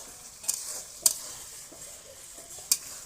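A masala spice paste sautéing in a pan for a meat dish, a steady soft sizzle with three sharp scrapes of a spoon against the pan, no voices.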